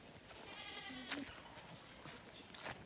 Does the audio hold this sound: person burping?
no